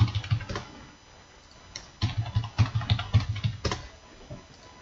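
Keystrokes on a computer keyboard as a name, email address and password are entered for a new driver account, coming in quick, uneven bursts of close clicks with short pauses between.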